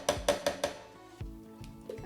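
Pineapple chunks drop into a blender jar, landing in four quick clattering knocks followed by a few softer, scattered thuds as pieces settle, close and fairly quiet with no talking.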